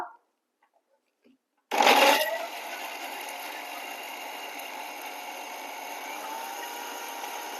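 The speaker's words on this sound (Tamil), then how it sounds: "ஒரு தக்காளி மட்டும் போட்டு அரைச்சிக்கலாம் நல்லா நைஸா" A mixer grinder whirs to life abruptly and runs steadily, blending tomato into a smooth paste with a constant high, buzzing drone. It is loud at first, then settles into an even grind.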